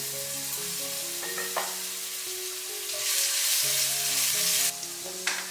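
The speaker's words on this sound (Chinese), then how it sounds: "把姜放进来爆香" Minced ginger sizzles and crackles steadily in hot oil in a wok while a Hakka rice-flour dumpling dish is prepared, the frying growing louder and hissier midway, with faint background music.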